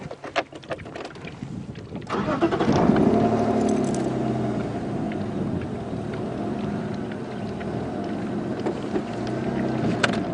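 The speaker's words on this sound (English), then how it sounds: "Okay, I'm just going to move the car a little bit further back." A safari vehicle's engine rumbles to life after some clattering and keeps running steadily, moving off nearby with a low, continuous drone.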